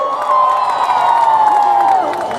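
A large rally crowd at Lebong Gorkha Stadium in Darjeeling applauds and cheers at a public meeting, producing a loud, dense, steady wash of clapping and shouting that holds for the whole stretch.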